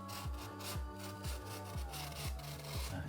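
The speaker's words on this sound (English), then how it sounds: "you should just slice through quite easy with your trimming knife." A trimming knife is drawn repeatedly through an acoustic wall panel, making a steady series of rasping, sawing strokes at an even rhythm, close by, with no speech.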